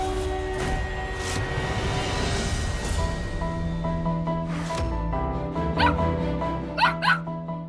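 A frightened dog barks in a French drama scene, with scattered barks early on and a quick, louder burst of yips near the end, all over a sustained musical score.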